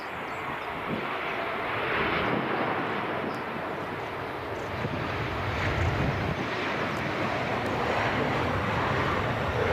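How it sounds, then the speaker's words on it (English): A Finnair Embraer 190 jet arriving from Helsinki at Edinburgh Airport, a steady broadband engine roar that holds fairly level throughout with some wind noise, no talking. "Embraer 190 long range from Helsinki in the understated but gorgeous Finnair livery"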